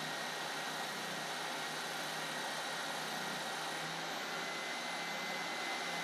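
Drum sander working a custom guitar body, with different-sized drums reaching curves like the cutaway: a steady, broad whirring grind that holds at a constant moderate level throughout, no pauses and no voices.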